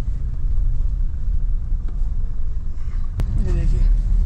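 A Mahindra Bolero fitted with offroad rims cruises straight along a main road, its steady low engine and tyre rumble filling the cabin while someone talks over it.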